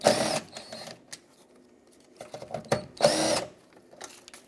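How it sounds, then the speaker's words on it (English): Close, short ratcheting bursts of a 10mm socket unbolting the mirror mounting bolts on a 1996-2002 Toyota 4Runner, two main runs of clicking with quiet gaps and light handling noises between. "with a 10mm socket, I'm going to unbolt the three bolts that hold the mirror on."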